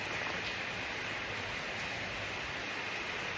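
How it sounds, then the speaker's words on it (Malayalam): Heavy rain falls in a steady, even hiss, faint and constant throughout, with no voices. "നല്ല മഴയാണ്."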